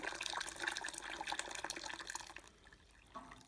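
Tap water runs and splashes into a container as roughly 10 litres are measured out for brewing a pale ale, a steady close pour that thins out toward the end.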